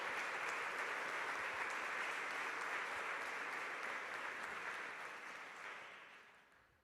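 A church congregation applauding together, steady broad clapping that holds loud for several seconds, then tapers off toward the end with no talking over it.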